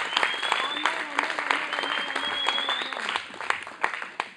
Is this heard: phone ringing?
no